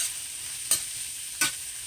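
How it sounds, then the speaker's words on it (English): Sweet potatoes, mushrooms, onion and red pepper stir-fry quietly with a faint hiss, broken by two brief, sharper stirring scrapes. "I'll probably stir fry it for about 12 minutes to get those veggies like I like them"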